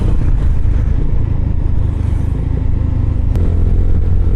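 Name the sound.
vehicle accelerating to overtake on the road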